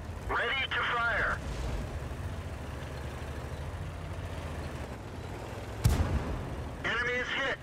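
A single sharp, heavy shot from the AMX ELC light tank's gun in World of Tanks bursts out near the end over a constant engine rumble, with short crew voice lines heard before and after it.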